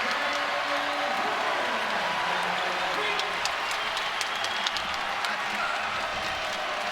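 A college basketball arena crowd, Gonzaga against San Francisco, applauds and cheers in a steady, fairly distant wash of clapping and voices, with crowd noise continuing throughout and no clear talk on top.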